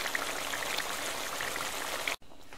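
About one and a half glasses of water are poured into a pot of cooking meat for namkeen gosht, a steady splashing gush that runs for two seconds and then cuts off abruptly.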